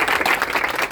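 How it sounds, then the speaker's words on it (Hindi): A brief burst of dense audience applause at an Independence Day function, many hands clapping close and loud for under a second. "तालियां बजाइए उसके लिए"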